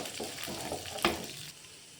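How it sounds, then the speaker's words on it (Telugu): Coriander seeds and lentils dry-fry in a pan, giving a soft, steady crackle and sizzle with one brief sharper scrape from stirring. The sound is close and fairly quiet, with no talking. "అలాగే ధనియాలు కూడా కొంచెంసేపు ఫ్రై చేసుకుందాం."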